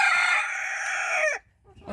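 Chinese Silkie rooster crowing loudly and close by in a single sustained call that cuts off abruptly, followed by faint low clucks from the hens.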